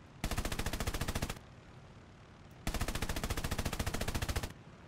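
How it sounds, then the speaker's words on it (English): .50 caliber machine guns on an F4F-3 fighter in War Thunder fire two rapid sustained bursts, loud and close, with a short pause between them. "50 cals are just doing nothing to this guy"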